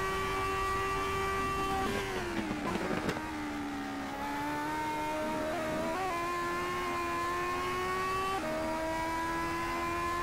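A Formula-style race car engine in a racing video game revs steadily at a launch start, its high whine holding, dipping briefly, then climbing again in stepped pitch shifts, loud and continuous.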